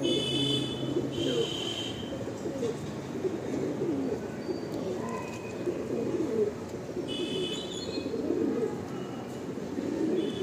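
A male pigeon in a loft coos in soft, repeated low murmurs over steady background noise, with faint higher chirps from other birds now and then.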